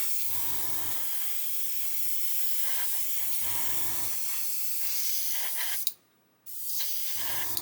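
An airbrush sprays a light dry coat of paint onto a model cab, giving steady hissing bursts broken by short pauses, close and moderately loud, with a brief silent gap before the spray resumes.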